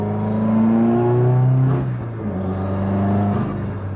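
A Subaru WRX engine on its restricted valet map revs up and holds, drops back, then climbs again, a loud close whining drone with no talk over it.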